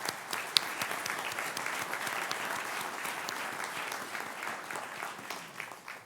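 Sustained, even applause from a large audience at a fall commencement ceremony fills the hall as a steady wash of many clapping hands, moderately loud throughout.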